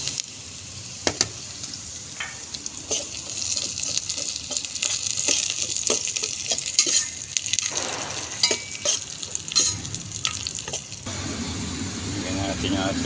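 Garlic sizzles and spits in hot oil in a pan while a utensil scrapes and stirs it, bursts of frying crackle rising and falling, with a voice talking over the cooking.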